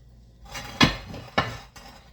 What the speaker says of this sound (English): So I'm just dumping the batter into a 9 by 13 pan